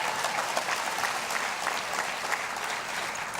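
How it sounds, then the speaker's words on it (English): Steady audience applause fills a press conference room, a dense continuous clatter of many hands clapping at an even level throughout, with no talk over it. "That one you can applaud"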